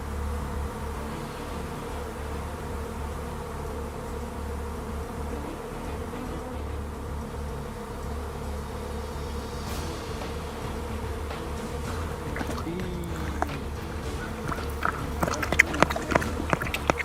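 Bees buzz steadily around a honey farm hive, a dense continuous hum, with sharper scattered clicks and knocks growing louder near the end.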